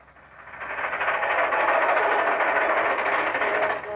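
A train rumbles past in a western TV drama, a broad, steady roar that swells over the first second, holds loud and even, then tapers slightly at the end.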